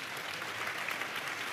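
A church congregation claps in praise during a sermon, brief, even, moderately distant applause with no clear individual claps standing out.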